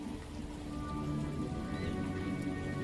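Steady rain pattering down in the game Disco Elysium, a soft continuous hiss of drops on surfaces with no talk over it.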